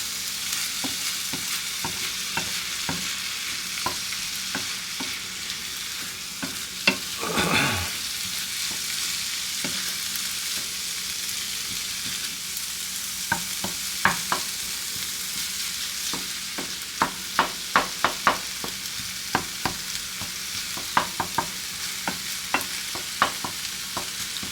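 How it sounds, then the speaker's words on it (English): Chopped vegetables sautéing in a pan for bolognese sauce, a steady close sizzle with irregular sharp clicks and scrapes of a stirring utensil, growing busier toward the end; no talking. "You want these just kind of sauteed, cooked till they're translucent"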